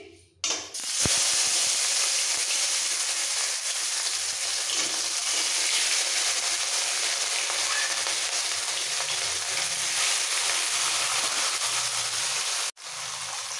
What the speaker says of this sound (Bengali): এই সময় নুন হলুদ মাখানো মাছগুলো ছেড়ে দিচ্ছি।